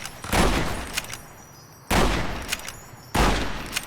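Gunfire in the video game Fallout: New Vegas, three loud shots spaced about a second and a half apart, each followed by a decaying echoing tail, with no voice over them.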